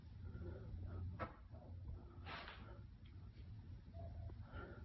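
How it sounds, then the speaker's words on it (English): A door shuts inside a home studio in paranormal footage, heard as a few soft, muffled knocks and thuds against a dull, noisy room background. "Door shutting? Door shutting."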